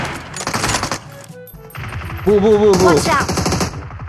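Automatic gunfire in PUBG Mobile, with rapid bursts that rattle loudly and close. Several volleys come in a row while players talk over them.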